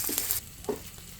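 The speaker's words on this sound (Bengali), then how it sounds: "এখন একটু তেলের ভিতরে একটু পেঁয়াজ রসুন আর এটা হচ্ছে এই তিনটে একসাথে আমি ভেজে নিচ্ছি" Onion, garlic and dried kachki fish frying together in hot oil give a brief, bright sizzle that fades quickly, followed by a soft stirring knock.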